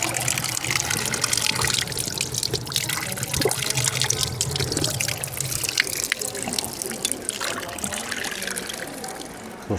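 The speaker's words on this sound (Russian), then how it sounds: "у вас рыбки с краником, попьете водичку, вот, все течет" Water running from a public drinking fountain tap on a street in Girona, a steady close trickle and splash with a voice talking over it.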